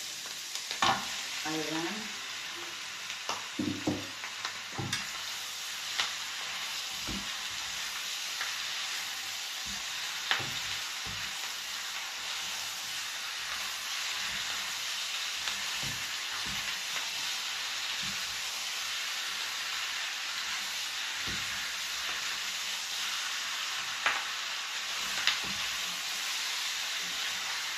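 Pork for binagoongan frying in a pan, a loud continuous sizzle broken by frequent clattering stirs and scrapes, with one short spoken word early on.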